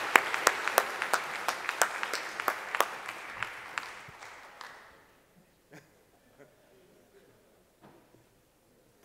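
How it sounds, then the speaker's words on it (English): Audience applause at a conference's closing session, a steady round of clapping with a few sharp near claps, fading out midway and leaving scattered isolated claps in a quiet hall. "he does get the round of applause he deserves"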